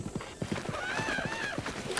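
A horse in Breath of the Wild trots with rhythmic clip-clopping hooves and gives a clear rising and falling neigh partway through, with soft ambient game sound behind it.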